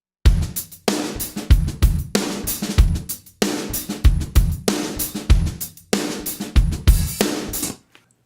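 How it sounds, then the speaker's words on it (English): A full drum kit with gated room mics blended in, punching out a steady groove of big roomy kick and snare hits that clamp shut between beats, loud and upfront with no talking. "let's have a listen to our drum kit with all of these rooms in place."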